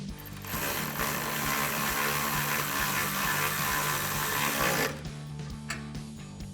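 A ratchet fitted with a 13mm socket tightens a bolt joining two running-board brackets on a Ram 1500 pickup, a rapid continuous clicking of the pawl up close that stops abruptly, followed by a few isolated clicks.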